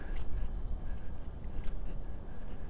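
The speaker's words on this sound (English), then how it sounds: "You hear them crickets in the back?" Crickets chirp steadily in quick repeated pulses behind a low rumbling background, faint and distant, with no voices in this stretch.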